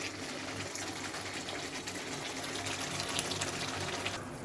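Hot water gushes steadily into a cooking pot of boiled potatoes for a fish curry, a continuous, fairly close pouring rush with no voices.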